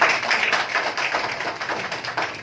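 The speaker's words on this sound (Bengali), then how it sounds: "একবার জোরদার তালিয়া" An indoor audience at a company training program claps loudly and continuously, a dense, close patter of many hands that thins slightly toward the end.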